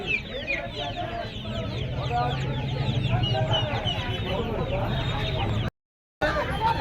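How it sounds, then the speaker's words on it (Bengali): Many native chickens clucking and cackling together at a poultry market, continuous and close, with murmuring voices mixed underneath and a brief cut near the end. "তো মা এবং বাচ্চা সমেত মুরগি দেশি মুরগি পিওর দেশি মুরগি"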